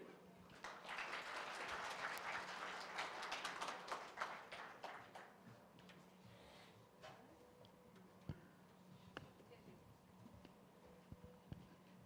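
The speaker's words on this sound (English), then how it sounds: "Can we give him a round of applause?" A conference audience applauds after a keynote address on health tourism. Full, dense clapping fills roughly the first six seconds, then thins out and fades to a few scattered, isolated claps against a quiet room.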